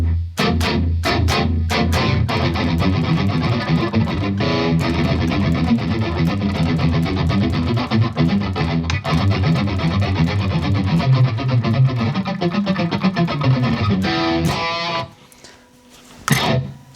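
Metal guitar licks played through a Neural DSP John Mayer X plugin ring out loud and alone, with rapid distorted picked runs and chugs, then cut off sharply under a tight gate before a final short burst.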